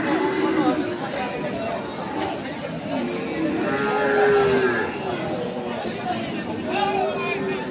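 Crossbred cattle at a busy livestock market, with several low moos and a few bleat-like calls rising over steady crowd chatter and bustle, moderately loud throughout.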